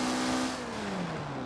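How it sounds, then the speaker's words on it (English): A car engine in Forza Horizon 4 hums steadily, its pitch sliding down as it downshifts, a brief, continuous mechanical drone. "You guys get to hear the downshifting of this car."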